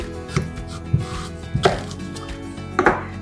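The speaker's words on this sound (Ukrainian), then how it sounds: "Нам треба кабачок розрізати навпіл." A knife slicing a zucchini in half on a cutting board, with four distinct chopping thuds spaced unevenly, each a sharp knock against the board, close and clear with no voices.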